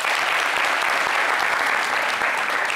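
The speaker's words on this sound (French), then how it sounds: "ça s'applaudit" A crowd at a lively Fête la CAN show claps in dense, continuous applause. The clapping is loud and close and holds steady for under three seconds.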